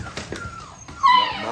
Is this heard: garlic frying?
no